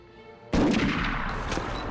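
One sudden loud gunshot blast from a weapon in the video game Medal of Honor, followed by a sustained noisy echo and faint crackles, with no talking.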